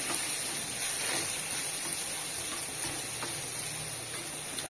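Grated coconut sautéing in a pan for coriander thogayal hisses with a dense, even sizzle that runs close and steady throughout, a few faint stirring scrapes underneath, before cutting off abruptly.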